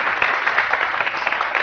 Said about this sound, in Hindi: बहुत सारी तालियां बच्चियों के लिए।